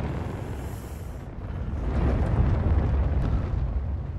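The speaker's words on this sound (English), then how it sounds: "Grass is on fire." Grass catching fire in the LIMBO video game: a rising, rushing crackle-and-whoosh of flames swells after a thin high tone cuts out, staying broad and steady to the end, with no talk.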